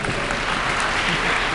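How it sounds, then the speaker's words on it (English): An audience at a political talk in the Great Synagogue breaks into steady, dense applause, a continuous wash of clapping that stays loud and even throughout. "So let's applaud him for that as well."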